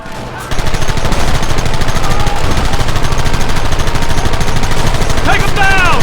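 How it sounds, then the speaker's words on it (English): Dense, loud gunfire from Red Dead Redemption, with rapid shots crackling almost without pause in a close firefight and a few voices shouting over the shooting. "Gun them down!"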